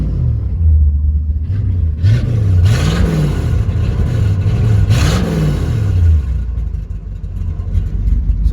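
A 1968 Ford LTD with a 428 V8 idles with a low, steady rumble up close. It rises and falls through a few gentle revs before settling back to idle.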